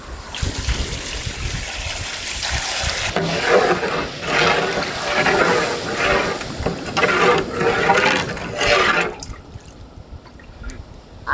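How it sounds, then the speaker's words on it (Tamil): Water pours into a pot of tuna mandi biryani in an outdoor village kitchen, a steady splashing trickle that swells for several seconds and then stops, with no talking. "அளவு தண்ணி அப்படியே சேர்த்து விடுமுக்கா"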